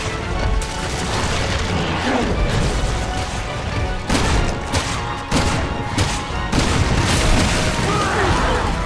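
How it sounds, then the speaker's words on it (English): Shotgun blasts from Resident Evil 6 in a final boss fight, a run of loud booming shots and crashes repeating across the stretch over dense game music and effects. "Pick up this shotgun, which I have a bajillion shots for,"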